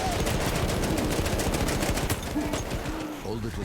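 Heavy, continuous volleys of gunfire in a Battlefield 1 battle, loud and close with machine-gun rattle that thins slightly toward the end; a voice may briefly mix in.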